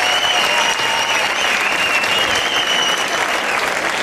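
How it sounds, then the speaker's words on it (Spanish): Loud, sustained applause from spectators at a fiesta capea in Caparroso, a thick wash of clapping with faint whistle-like tones running through it, no speech. "Fuerte aplauso, vamos Caparroso."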